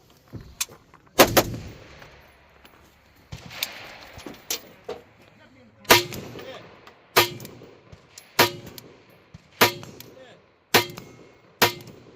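A Fabryka Broni Beryl 5.56 rifle fires about a dozen sharp, loud shots at an outdoor range, spaced irregularly roughly a second apart, each with a brief echoing tail.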